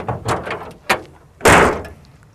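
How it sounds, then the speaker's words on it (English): A car bonnet is slammed shut onto a rugged phone placed beneath it: a few lighter knocks and thuds, then one loud heavy slam that rings briefly before fading, close up and without speech. "So we put the phone here, which is directly underneath where the bonnet slams down"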